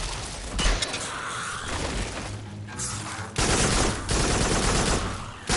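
Precision rifle fire against robot enemies in the VR shooter Farpoint, with loud blasts and bursts of gunfire in quick succession and dense crackling impacts between them, full and close throughout.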